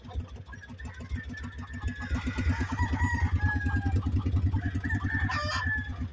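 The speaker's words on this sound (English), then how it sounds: "There's Radio Rooster." A rooster crows loudly several times over a steady, rhythmic engine-like thrum close by, recorded while riding on a farm.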